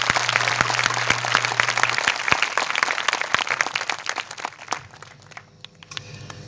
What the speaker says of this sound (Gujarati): सबसे पहले हम यीशु के लिए एक जोरदार ताली बजाएं।